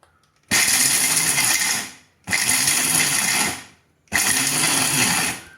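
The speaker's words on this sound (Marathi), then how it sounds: "हे बारीक करताना पल्स मोडवर चालू केलं बंद केलं अशा पद्धतीने आपल्याला ते बारीक करायचं आहे" A mixer grinder pulses almonds in three loud bursts of roughly a second and a half each, every whirring burst spinning down into a short silence before the next.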